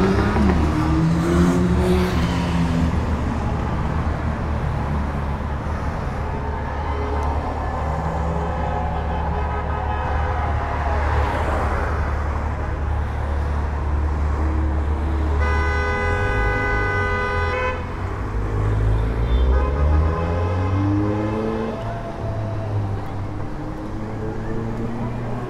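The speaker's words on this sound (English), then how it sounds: "They're getting a lot of support and honks." Car horns toot repeatedly in passing traffic supporting a Cuba protest on a Los Angeles street near Echo Park, mixed with engine noise and people talking nearby.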